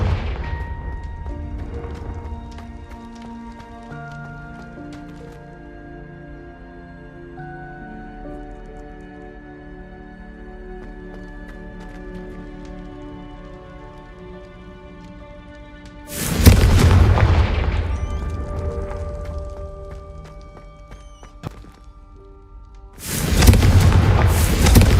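Two loud explosive blasts of the Confringo fire spell in Hogwarts Legacy burst out after a stretch of quieter ambient game music, each a sharp broadband boom with a decaying tail, the second arriving about seven seconds after the first.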